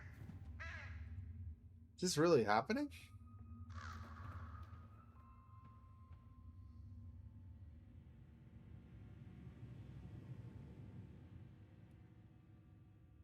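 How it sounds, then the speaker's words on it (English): Crows caw in the horror video game True Fear: Forsaken Souls, a short burst of loud harsh calls early on over a low rumbling ambience, followed by someone talking briefly. "Thanks, ravens or crows, whatever you are exactly."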